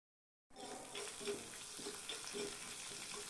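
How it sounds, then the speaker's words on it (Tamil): Chopped curry leaves and green chillies sautéed with lentils in a pan for rice-flour kozhukattai: a soft, steady frying hiss that starts abruptly and continues evenly, faint and close, with no talk. "கருவேப்பிலை கொஞ்சம் பொடியாக கட் பண்ணினது பச்சை மிளகாய் கொஞ்சம் கட் பண்ணினது சேர்த்து வதக்கிக்கலாம்"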